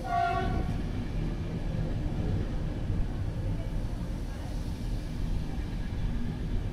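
An Intercity train rumbles past at close range heading toward Faro in Portugal, heavy and continuous, with a brief horn blast at the start.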